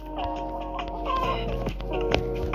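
A chicken clucks repeatedly over a layered electronic background of tones and effects in a Minecraft-style obby game, with short bursts of clucking spread across the clip.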